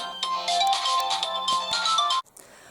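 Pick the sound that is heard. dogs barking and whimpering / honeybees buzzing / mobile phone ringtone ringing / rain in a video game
mobile phone ringtone ringing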